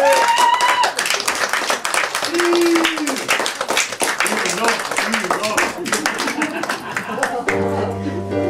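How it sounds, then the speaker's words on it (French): An audience at a live cabaret show applauds a singer with dense, sustained clapping, mixed with a voice, before music begins at the end. "On applaudit très fort, Cathy!"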